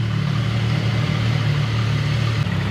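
A CF Moto 675 SR-R three-cylinder motorcycle engine idles steadily right after a cold start, a close, loud, even low drone with no rise in revs and no talking.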